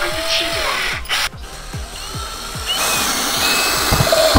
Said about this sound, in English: let's try to mount it with some screws